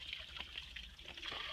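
A small solar-powered pump waterfall spills water over rock, producing a soft, steady trickle and light splashing close by, with no talking.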